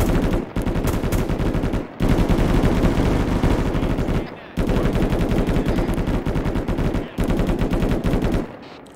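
A machine gun fires at its cyclic rate in long, loud, close bursts of rapid shots, broken by a few brief pauses between strings of fire.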